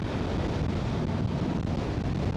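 Strong wind buffets the microphone in a steady, loud roar with low rumbling gusts throughout, recorded while standing outdoors at the Monte Maria shrine during a solo ride.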